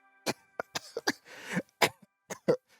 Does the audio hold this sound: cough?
yes